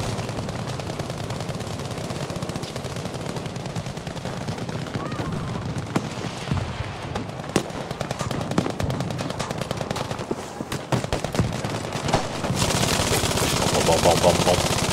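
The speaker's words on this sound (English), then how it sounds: "Not enough rounds being shot." Medium machine gun in the video game Battlefield V firing long rapid automatic bursts, loud and close, with other gunfire and game noise behind it and some talk over the action.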